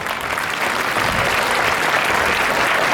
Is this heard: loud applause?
yes